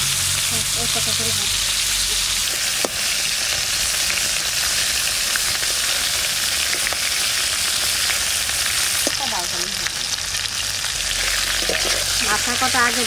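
Climbing perch fish heads fry in mustard oil in a wok, a loud continuous sizzle with occasional stirring clicks, while a voice talks quietly nearby.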